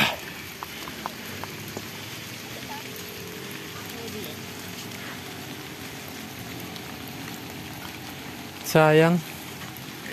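Rain falls steadily on the Mount Brigino trail in Bulacan, a soft continuous patter throughout, with a brief spoken word near the end.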